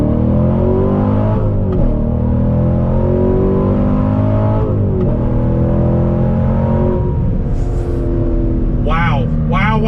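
A 2016 C7 Corvette Stingray V8 engine revs under full throttle, a loud, close, rising roar that climbs through gears with brief shift dips, and a voice speaks over it near the end.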